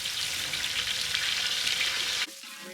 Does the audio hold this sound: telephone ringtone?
no